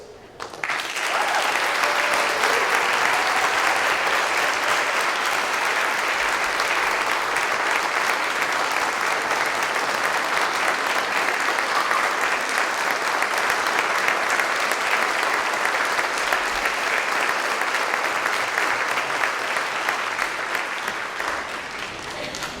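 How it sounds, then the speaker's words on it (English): Large audience at a college commencement ceremony applauds continuously and loudly for over twenty seconds, a dense, steady wash of clapping that eases off near the end. "So I'd like to take a moment to clap for the families, the partners,"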